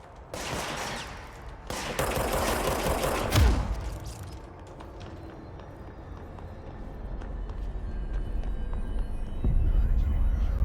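Enemy gunfire erupts in the video game Control as loud, crackling automatic bursts in the first few seconds. It then drops away into a lower rumbling ambience, with a heavier thump near the end.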